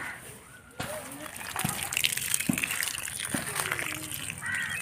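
Water splashing and sloshing onto chili plants in a garden, a steady wet rush starting about a second in, heard under ongoing talk and the voices of children playing nearby.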